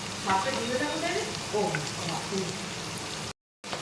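Capsicum pieces frying in a pan, with a steady crackling sizzle and the occasional stirring scrape, while a voice talks faintly underneath, before a brief drop to silence near the end.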